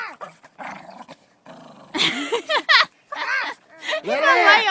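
A dog growls and whimpers near a deer outdoors, low rumbling growls rising into whiny yelps, loud and close, with a person's raised voice calling out between the sounds.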